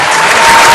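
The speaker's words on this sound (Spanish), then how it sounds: "Un aplauso, bravo." Studio audience applause on a live local TV variety show, loud, dense and sustained through the whole short stretch, with no talk over it.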